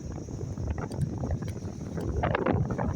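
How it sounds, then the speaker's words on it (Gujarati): Blustery seaside wind buffeting the microphone in rough, rumbling gusts that grow stronger toward the end, with no other clear sounds. "એમાં પવન આવતો હોય છે એટલે અમારો અવાજ નહીં આવે તમને"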